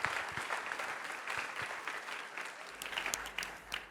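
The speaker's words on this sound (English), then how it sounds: "Give her a round of applause." A room full of people applauds a startup pitch at a tech competition session, a steady broadband wash of clapping that holds for several seconds with some sharper individual claps near the end, no talk over it.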